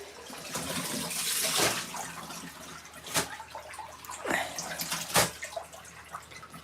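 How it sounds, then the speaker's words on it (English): Water gushes from the drain hose of an LG ThinQ MEGA Ultimate washing machine, a steady splashing pour with a few louder surges, heard alone and close. "drop the drain hose just like that. So it'll drain."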